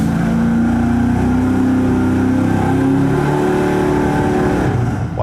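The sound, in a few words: engine running badly on a dyno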